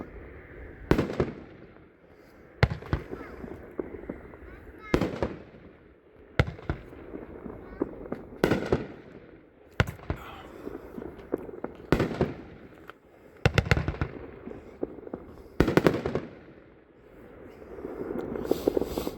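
A 9-shot consumer firework cake going off outdoors, firing sharp booming launches at roughly two-second intervals, each followed by crackling bursts, loud and fairly close with no talking.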